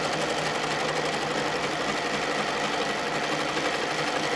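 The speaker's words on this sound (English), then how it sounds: "we come to the corner, we go ahead and we sew" A domestic sewing machine runs continuously while stitching ruler work, a steady, dense mechanical whir with fast needle rhythm, close and moderately loud with no talking.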